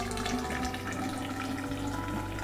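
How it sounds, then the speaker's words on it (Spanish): Distilled water pouring steadily into a graduated cylinder in a lab, a continuous close trickle filling the vessel without pause. "Y ahora con agua destilada ionizada aforamos hasta 500 ml."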